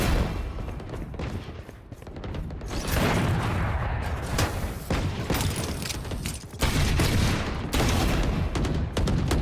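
Gunfire in a Valorant professional match, VCT Americas. A busy stream of shots, some in rapid clusters and some as single cracks, with mechanical clicks and thuds under the steady, loud action.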